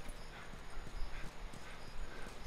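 Horse hooves clop in a steady, close rhythm in the video game The Last of Us, heard alone over a low, constant background.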